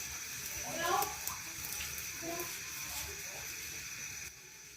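Tap water runs over charred tomatoes in a kitchen as a steady, soft hiss of flowing water under a voice.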